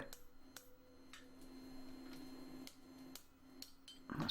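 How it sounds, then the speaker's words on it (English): Blacksmith hammering a rivet on a pair of 3/8-inch flat stock tongs: several sharp metallic strikes at irregular intervals over a steady low hum, with a louder clatter at the end. "I'm just going to finish off the rivet"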